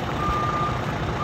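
A truck's reversing alarm beeps steadily as the truck backs up while salt is cleared off it, a continuous tone sounding loud and close over a rumbling engine, with no talk.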